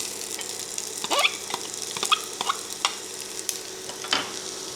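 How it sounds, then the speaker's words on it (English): Whole onion dropped into heated cooking oil, giving a steady sizzle broken by several sharper crackles and stirring clatters, moderately loud and close with no talking. "Once our oil is heated, add 1 whole onion."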